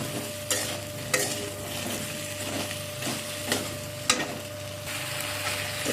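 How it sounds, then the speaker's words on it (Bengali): Ripe jujubes stirred in a pan for pickle without added water: steady scraping and stirring with soft sizzling, with sharper spoon knocks against the pan at intervals, close and moderately loud, no talking. "এখানে নাড়াচাড়া করতে করতে কুলগুলো বেশ নরম হয়ে গিয়েছে।"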